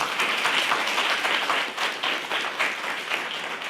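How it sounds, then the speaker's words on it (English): Sustained applause from an alumni crowd at an indoor anniversary celebration, dense clapping that holds steady throughout, without speech. "I think we need to give ourselves an applause as alumni"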